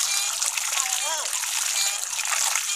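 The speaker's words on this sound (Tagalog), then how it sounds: "Masarap magugas dito sa poso kasi maraming tubig." Dishes being washed with plenty of water at an outdoor hand pump, with a steady splashing, sloshing stream running throughout and a faint voice briefly in the background.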